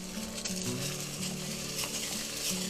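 Steady bubbling of a pot of water with cinnamon and lemon at a boil, with a soft rattle of washed rice grains dropping in, close and continuous.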